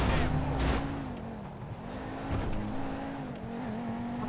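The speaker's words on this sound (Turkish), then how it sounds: "Araba var ya aşırı mükemmel bir arabaymış." Car driven in the video game GTA 5, an engine revving with a sustained tonal whine that bends as it accelerates and turns, moderately loud, with a brief burst of tire noise near the start.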